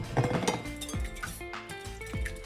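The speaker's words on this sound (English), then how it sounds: "And it's 2 whole eggs. And we're just going to" Two whole eggs for a pumpkin pie filling are beaten in a bowl, giving quick clinking taps of utensil against the bowl, close and fairly loud, with no talking.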